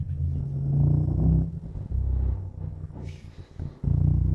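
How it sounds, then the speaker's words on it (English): The turbocharged V8 of a Mercedes-Maybach SL 680 Monogram Series roadster rumbles low and steady with fluctuating intensity and a brief lull, heard from inside the car without talk. "the sound of the turbo is magnificent"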